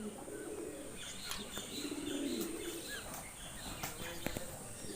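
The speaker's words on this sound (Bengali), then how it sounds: "দামি দামি কবুতর ময়ূর আছে" Expensive pigeons coo softly in an enclosure at a shrine in Atroshi, Faridpur, low murmuring calls with occasional chirps and a brief flutter, faint against steady background noise.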